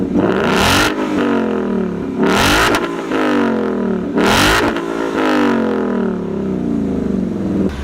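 A 2016 Ford Mustang GT Performance Pack with a Roush axle-back exhaust runs close and loud, its deep V8 rumble swelling in three revving surges between steadier idle stretches.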